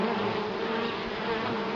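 A wasp buzzes steadily at an apiary, close and continuous, its droning tone holding level without any talking.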